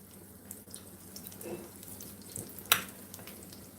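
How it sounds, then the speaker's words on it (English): A small test piece of salmon patty, made with green onion, cornmeal and flour, sizzles and crackles steadily in a pan of hot oil, with a sharp pop near the end. "let me put my little test piece in there because we added more oil"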